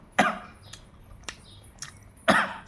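A person coughs several times indoors, two louder harsh bursts framing a few quieter short coughs, with no talk.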